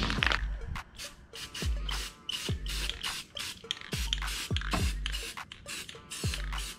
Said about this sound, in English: I'm gonna hit it with some spray enamel.